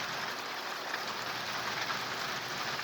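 Light rain sprinkles down on a dry Arizona yard near a pecan tree, a steady, even hiss of drops on surfaces with no voices.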